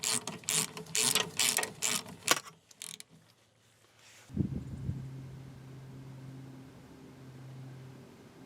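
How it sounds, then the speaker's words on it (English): A ratchet snugs up a brake line fitting on a 2003 Chevy Silverado during rear brake and hose work: a quick run of loud, close clicking strokes for about three seconds, then quiet followed by a low mechanical hum. "before I go back and snug it up, you know, with the ratchet."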